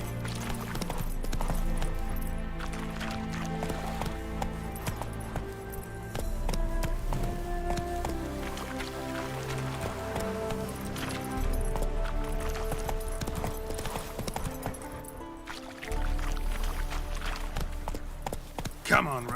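Roach gallops in the video game The Witcher 3, a running beat of clip-clopping hooves mixed under loud, continuous music and game sounds for the whole stretch.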